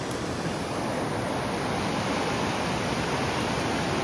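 A cold creek's water rushes in a steady, loud, close wash of flowing noise that runs unbroken, with no voices over it.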